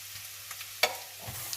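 Pounded onion and ginger fry in hot ghee in a pan, giving a soft steady sizzle with a few stirring clinks and scrapes.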